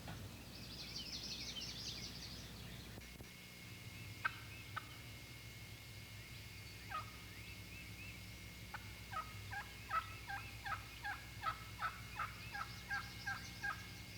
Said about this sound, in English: the adult toms begin to strut. Fanning their tails and dragging their wings, they spit and drum